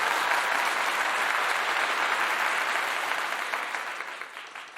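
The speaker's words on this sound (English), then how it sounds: "A round of applause for you guys." Applause sound effect played on a live stream, a steady dense wash of clapping that holds for several seconds and then gradually fades out, with no voices over it.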